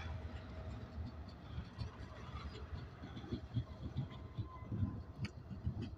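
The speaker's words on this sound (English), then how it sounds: "This is the Aurora Winter Train once again." Rhythmic clatter of the Aurora Winter passenger train's wheels over rail joints as cars roll past in Wasilla, Alaska, a low steady rumble with repeating clunks, moderately distant.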